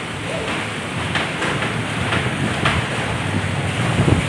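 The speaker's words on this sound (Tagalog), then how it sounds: "Lakas po ng hangin mga ka-Gymlin, no." Strong wind with rain gusting beside a building during a typhoon, a steady broadband roar with buffeting gusts on the microphone throughout, close and loud, with no talk.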